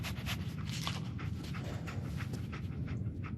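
Dogmeat, the dog companion in Fallout 4, pants rapidly and steadily at close range, a continuous huffing rhythm with no talk over it.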